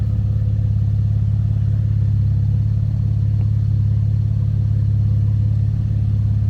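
A 2015 Chevrolet Camaro convertible engine idles steadily with a deep, even rumble heard from the rear, continuing throughout, fairly loud and close, with no voices.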